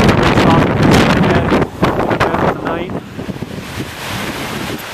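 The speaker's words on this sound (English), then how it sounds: "it's still pretty windy" Strong wind buffets the microphone outdoors in heavy, roaring gusts that ease partway through, with a few spoken words heard under the noise.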